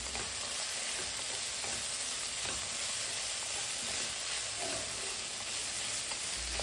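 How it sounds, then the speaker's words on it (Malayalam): Crushed garlic and ginger fry in oil for a chicken curry, producing a constant close sizzle broken by the scrape of stirring in the pan. "ഇനി ഇതിലേക്ക് 1 ടീസ്പൂണ് വെളുത്തുള്ളി ചതച്ചതും 1 ടീസ്പൂണ് ഇഞ്ചി ചതച്ചതും കൂടി ഇട്ട് കൊടുത്തിട്ട് ഇതിൻ്റെ ഒരു പച്ചമണം മാറുന്ന വരെ ഇളക്കി കൊടുക്കുക"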